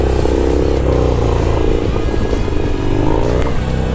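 Harley-Davidson Sportster engine while riding during circle-wheelie practice, a loud, steady, throbbing motorcycle drone with slight pitch shifts as the throttle changes, close and unbroken.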